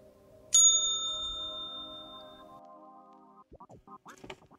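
A bright notification bell dings once with a sharp metallic strike, its tone ringing out and slowly fading over a few seconds before faint voices take over at the end.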